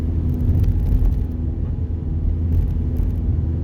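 Steady low rumble and hum of a car engine idling and lightly revved from inside the cabin during a driving lesson, loud and continuous with no voices.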